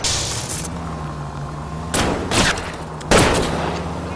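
Three sharp gunshots fired at a fleeing car's tires in L.A. Noire on PS4, spaced roughly a second apart over a steady engine drone and road rumble, loud and close.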